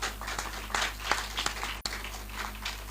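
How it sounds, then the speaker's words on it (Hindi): A church congregation clapping for the Lord after a sermon reading, a fairly faint scattered patter of hands with a few louder claps, a brief dropout midway and steady hum underneath. "ताली बजाए प्रभु के लिए।"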